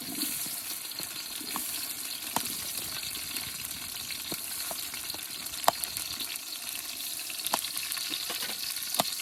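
Onion fries in hot oil for biryani with a continuous crackling sizzle, broken by occasional sharper clicks and pops as it is stirred.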